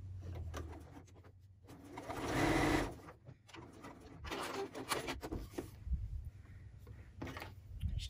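A sewing machine stitches straight lines on fabric alphabet letters, its motor whirring in short close runs with pauses and small clicks between bursts.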